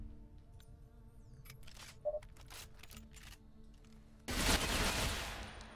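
A BKG gun loaded with pink tracer ammo fires in the Ghost Recon Phantoms video game. Faint clicks and ticks lead into a loud burst of rapid automatic fire near the end.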